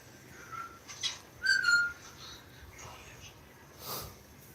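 A few short, faint whistled notes, thin and high, separated by pauses against a quiet background.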